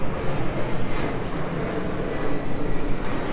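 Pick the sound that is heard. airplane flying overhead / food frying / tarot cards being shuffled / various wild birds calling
airplane flying overhead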